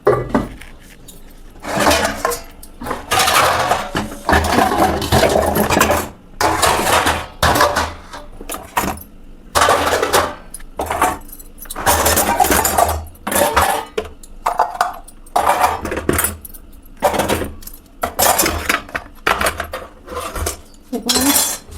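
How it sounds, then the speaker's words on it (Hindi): Metal utensils and pots clink and clatter as they are set down and arranged in a home kitchen, with repeated close, sharp knocks and rattles that continue almost without a break. "देखो मैंने बर्तन लगा दिए।"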